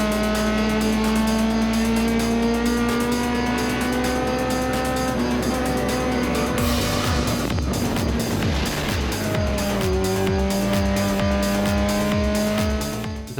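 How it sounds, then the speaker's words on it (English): A fifth-generation 1992 Honda Civic race car screams at full throttle on track, its engine note holding high and loud, then breaking into a rough rattling burst as it slides before climbing through the revs again. "This is a 1992 Honda Civic, the 5th generation, slightly larger and more aerodynamic than its predecessor, as Eric Cattell goes for a big slide"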